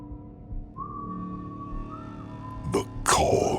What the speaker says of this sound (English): soon he disappears, whistling a tune I know